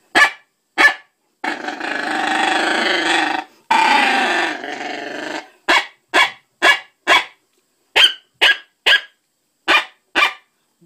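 A caller imitates two coyotes fighting over a kill, voicing snarling, growling stretches followed by a string of sharp, evenly spaced barks and yips, loud and close with no talk.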